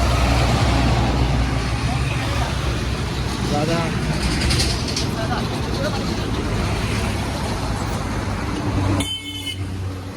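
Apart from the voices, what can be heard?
road traffic passing very close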